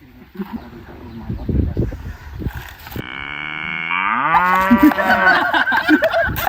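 A cow moos in one long, loud, drawn-out call that swells and bends in pitch before trailing off, following chatter and laughter from people nearby on a farm; talk continues beneath it.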